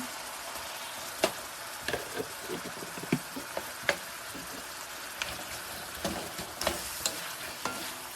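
Garlic and onion fry in a pan with a constant bright sizzle, while a utensil stirs and scrapes, giving scattered clicks and taps up close with no voices.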